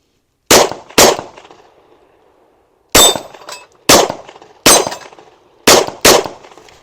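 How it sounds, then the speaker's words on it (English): Concealed carry handgun fired at gel targets outdoors: seven sharp, loud shots, a single, a pair after a pause, then three in steady rhythm and a final quick pair, each with a short decaying echo. "I'm going to shoot about 5 or 6 of them"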